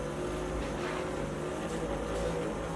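Steady mechanical hum and buzz of a Thumper percussion massage machine running during a medical massage session, a continuous moderate drone with no pauses.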